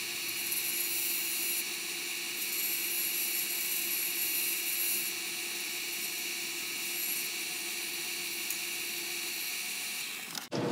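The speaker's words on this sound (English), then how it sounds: "Let's go over to the grinder." A grinder runs at steady high speed while shaping a metal fork into a heart pendant, a loud continuous whine and roar that holds unchanged for about ten seconds before a brief dip at the end.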